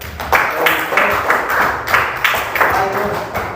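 Schoolchildren in a classroom clap together during a lesson, a loud, close series of rhythmic clapping bursts falling roughly every third of a second.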